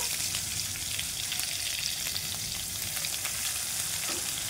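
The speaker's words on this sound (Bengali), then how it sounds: "পেঁয়াজটা লাল লাল করে ভেজে নেব" Chopped onion and cumin fry in hot oil in a wok, a loud, continuous close-up sizzle with faint stirring crackles and no voices over it.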